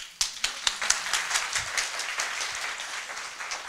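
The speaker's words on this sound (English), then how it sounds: "Big applause again" Audience applause after a keynote presentation on intelligent cities, opening with a few sharp separate claps before swelling into dense, fairly distant clapping from a roomful of people that slowly tapers off.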